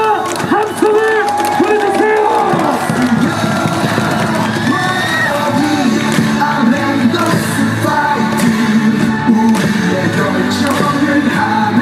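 A packed stadium crowd at a Korean pro baseball game (SSG) cheers and claps steadily after a win, a dense, loud roar of applause and yells with a stadium announcer's voice booming over the top throughout.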